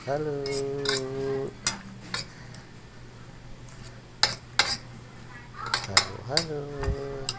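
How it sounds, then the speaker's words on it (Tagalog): Egg mixture seasoned with salt and syrup stirred in a bowl, with scattered clinks and scrapes of a utensil against the dish, close and moderately quiet, joined by tonal humming near the start and end. "Yan, haluin ulit yan."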